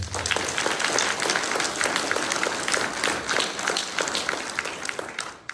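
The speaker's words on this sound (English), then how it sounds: "I'd love for all of us to give our student nominees one more round of applause for a job well done." A seated audience at a graduate student awards ceremony applauds in a dense, sustained burst of clapping that fades slightly at the end.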